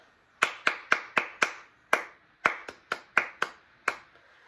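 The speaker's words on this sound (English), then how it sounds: "if you can get a loud clap in there, you're not having to use your voice, you're just clapping" A single pair of hands claps a simple classroom rhythm in a preschool setting: twelve sharp, close claps in quick groups with brief pauses between them, heard alone with no voices.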